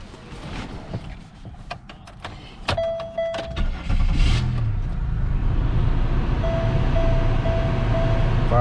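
Pontiac Grand Prix being started: clicks and knocks of door and controls, then the engine cranks and catches into a steady, loud idle that continues to the end, with a faint whine from the cabin.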